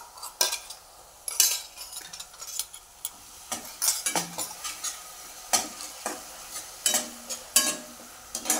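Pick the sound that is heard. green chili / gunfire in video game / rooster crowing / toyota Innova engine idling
green chili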